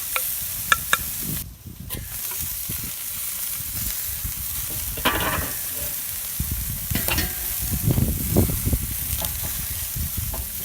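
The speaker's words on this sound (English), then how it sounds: "I'm just gonna dump this broccoli mixture right here onto this pan." Broccoli mixture sizzles on a Lodge cast iron grilling pan in a steady, close frying hiss, with bursts of clattering and scraping as the pieces are moved around.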